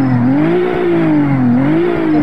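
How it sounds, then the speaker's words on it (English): A 2005 Honda Accord with a full exhaust revs in the Roblox game Greenville, a loud, steady engine drone that rises and falls in pitch through a couple of rev swells, with no talking over it. "Let's rev it."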